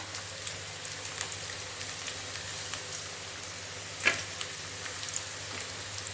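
Crushed garlic frying in hot oil for a brinjal tamarind curry, a steady close sizzle and crackle with small pops and one sharper spatter.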